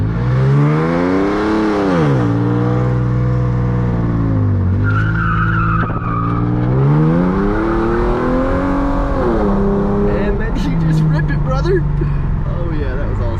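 A 370hp 3.8 Genesis Coupe does a brake-stand burnout, its engine revving hard and rising and falling in pitch over loud, continuous tire squeal, close and dominant throughout.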